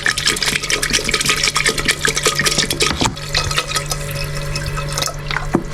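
Vegetables are thrown into a pot while making Moroccan couscous, giving a close, busy run of wet splashes, drips and light clatters.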